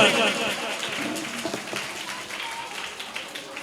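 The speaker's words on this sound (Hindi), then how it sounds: "ताली हो जाए जोरदार एक बार" Clapping from the audience at a Jain children's education camp closing ceremony, loud at first and then thinning out, a busy crowd wash with faint voices mixed underneath.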